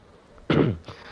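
A single short, fairly close cough, a sharp burst followed by a faint after-catch, with no talking.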